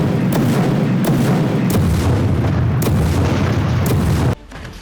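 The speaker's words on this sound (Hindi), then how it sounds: "इजराइल ताबड़तोड़ गोले दाग रहा है। चप्पे चप्पे पर बम बरसा रहा है।" Artillery shells fired and exploding in Gaza during the Israel-Hamas war: a dense run of loud booming blasts, several sharp reports at roughly one-second intervals over continuous rumble, then a sudden drop to quieter background.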